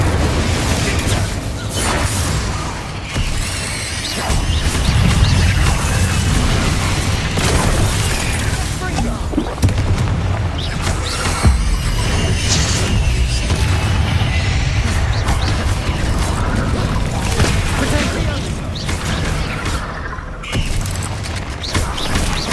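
Spell blasts from Confringo and Bombarda in Hogwarts Legacy on PS5, a dense run of loud booming explosions and bursts with mechanical clatter, continuous over about twenty seconds; a voice is heard over the combat.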